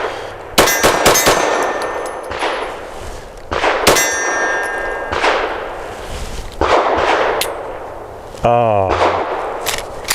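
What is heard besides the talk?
FN 509 Midsize pistol shots hitting steel targets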